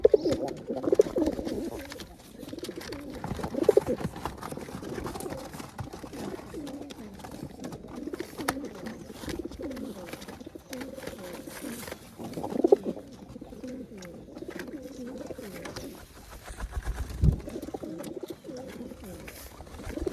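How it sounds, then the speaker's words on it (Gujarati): Pigeons coo in low, throaty, repeated rolling calls, fairly close, with a few soft flutters and faint background noise between phrases. "ઘણા બધા કબૂતર આમ એનો માળો હોય પણ બહાર બેસે"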